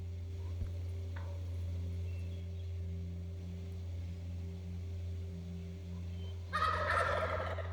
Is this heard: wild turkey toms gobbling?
yes